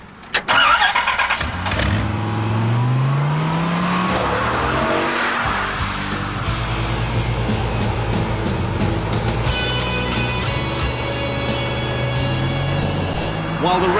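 Chrysler Viper 8-litre sports car engine, loud and close, starting with a rising rev and tire squeal before settling into a sustained, rumbling roar with rapid mechanical pulses.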